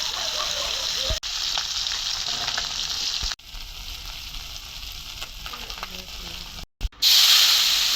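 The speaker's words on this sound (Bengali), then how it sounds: "পেঁয়াজ দিয়ে দিলাম বন্ধুরা তেলের ভিতরে" Onions hit hot oil for a Bangladeshi tengra fish bhuna with tomato, giving a loud, steady sizzle that briefly cuts out and resumes as the pan is stirred.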